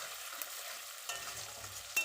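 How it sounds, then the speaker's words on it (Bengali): Quiet, steady crackle of onions frying in a pan until deep golden brown, with a few soft scraping stirs and a brief louder clatter near the end. "পেঁয়াজটা ভালো করে লাল লাল করে ভাজবো"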